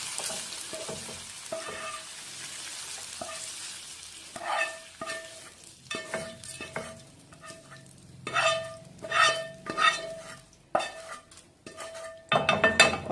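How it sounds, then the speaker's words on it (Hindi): Scraping and clinking of a spoon against a metal pan and bowl, irregular clatters growing busier and louder toward the end, no voices. "तो इसके लिए हम इसको एक कटोरी में ट्रांसफर कर देते हैं।"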